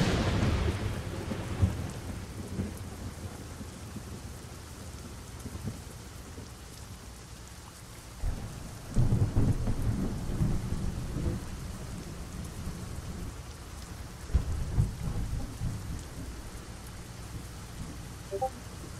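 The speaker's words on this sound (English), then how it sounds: "The sound of that thunder is so cool." Thunderstorm in American Truck Simulator, steady rain on a surface with deep thunder rumbles swelling at intervals, one near the start and louder rolls around the middle and later, no voices.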